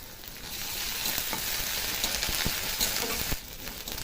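Onion with ginger-garlic paste sizzles steadily in hot oil for a Bengali-style pomfret and potato curry, a dense close hiss with occasional stirring scrapes and pops, easing slightly near the end.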